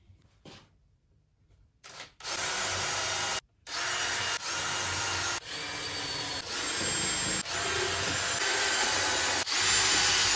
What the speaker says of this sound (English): get the drill out, do some pre-drilling, screw this thing together